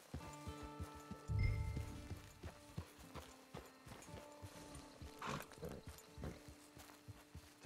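A horse in the Red Dead Redemption 2 video game snorts and clops its hooves, with a burst of breathy snorting early on and scattered hoofbeats over quiet game ambience.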